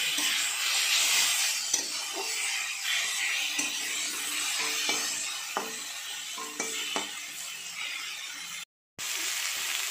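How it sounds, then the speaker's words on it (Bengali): Taro stems and onions are stirred and fried in a pan, giving a steady, bright sizzling hiss broken by scraping and tapping clicks from the spatula, with a brief drop to silence near the end. "এবার পেঁয়াজের সঙ্গে একটু ভালো করে নাড়াচাড়া করে নিচ্ছি"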